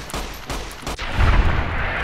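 Gunfire in Fallout New Vegas cracks out as several sharp, close shots in quick succession, followed by a heavier booming rumble that lingers to the end.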